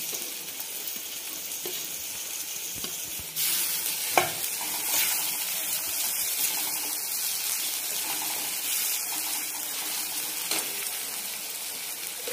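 Tomato and turmeric hitting a hot pan of oil for green-chilli besan pithla set off a steady sizzle, which jumps louder partway through, with occasional stirring scrapes and no talking.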